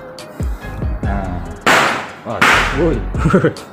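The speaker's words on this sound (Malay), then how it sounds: "Bunyi mercun guys." Sharp firecracker bangs burst out twice, loud and close, with a startled voice reacting around them.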